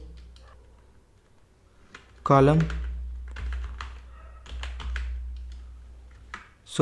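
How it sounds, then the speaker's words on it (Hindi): Clicky computer keyboard typing of a MySQL query, scattered bursts of close keystrokes, with a brief vocal sound partway through. "यहाँ पे जाके हम टाइप करते हैं"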